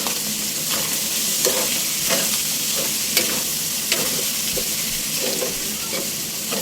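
Papaitan with pepper stirred in a sizzling pan, with loud close frying hiss under repeated scraping stirs of a utensil, no talk.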